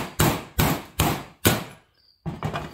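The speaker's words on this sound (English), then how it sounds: "this is a sheet metal tabletop, so it always makes everything sound like I'm wailing on it" A hammer strikes a socket on a sheet metal tabletop during crank bearing replacement on a 266xp chainsaw case: four sharp, ringing metallic blows in steady rhythm, a brief pause, then two more quick hits, close and loud.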